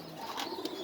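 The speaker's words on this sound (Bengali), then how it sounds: "দেখেন খুব সুন্দর কবুতরগুলো" Pigeons kept for sale give a brief, faint, soft cooing call at a moderate distance.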